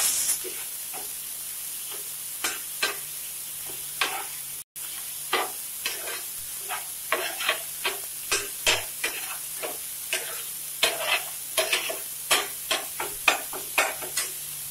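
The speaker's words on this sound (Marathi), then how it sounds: "आता आलं लसणाची पेस्ट टाकू 1 चमचा. आता याला चांगलं परतून घेऊ." A spoonful of ginger-garlic paste sautés in a pan for cut vada, with a soft continuous sizzle punctuated by regular, fairly close spatula scrapes and taps that grow more frequent toward the end.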